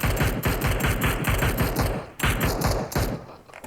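Rapid automatic gunfire in the battle royale game PUBG Mobile, loud and close, firing in two sustained bursts with a short gap between them, no talking over it.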